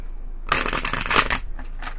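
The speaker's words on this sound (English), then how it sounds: "one more good shuffle and we'll see what's up" A deck of tarot cards riffled and shuffled close up, a dense burst of papery flapping lasting about a second before trailing off into quiet.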